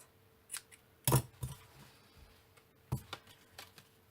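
Scissors snipping off excess ribbon during a papercraft project, a few short crisp cuts spaced apart against a quiet room, close and fairly faint.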